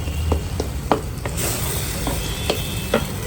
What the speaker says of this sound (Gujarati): તેલ છૂટું પડી ગયું છે હવે નાખું છું લીલું લસણ